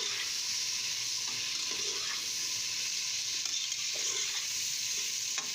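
Cut potatoes fry in a pan for tahiri, producing a dense, steady hiss of sizzling oil at close range, with occasional soft stirring knocks beneath it.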